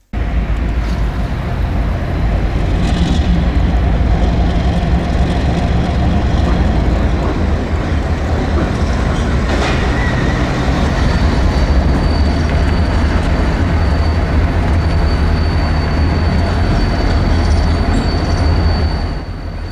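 A freight train passes near a rail yard south of Torreón, Mexico, with a loud, close, continuous rumble of wheels on track and occasional thin metallic squeals riding over it for the whole stretch.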